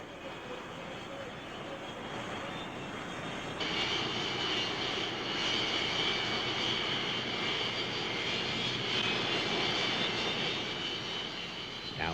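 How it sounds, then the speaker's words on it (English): Blue Angels A-4F Skyhawk attack jets flying at an air show, a loud steady roar of jet engines that swells partway through and holds, with no talk over it. "the Blue Angels were performing in the small A4F Skyhawk line attack jets"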